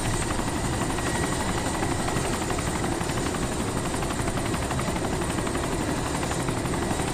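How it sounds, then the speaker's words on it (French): A helicopter in the video game DayZ Epoch drones loudly and continuously, its rotor thumping in a steady pulse as if hovering close by, with no voices. "En fait, j'attends de voir l'hélico, moi"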